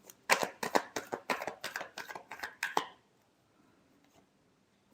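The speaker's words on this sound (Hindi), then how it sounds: "Last shuffle." Tarot cards being shuffled, roughly ten crisp rhythmic riffling slaps in quick succession, close and fairly loud, then near silence with only faint rustles.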